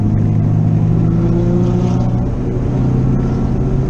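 Saab 9-5 track day car accelerating on a circuit, a loud steady engine drone with strong low harmonics heard from inside the car, holding fairly constant without a clear rise.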